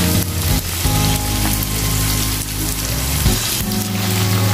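Chicken kala bhuna fries loudly in a pan, a dense, continuous sizzle with faint scraping as it is stirred, close and unbroken throughout.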